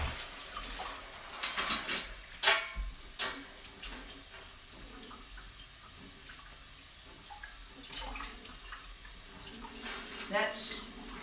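Tap water runs into a measuring cup in a home kitchen, a steady hiss broken by clinks and knocks of the cup and utensils, with someone talking over it.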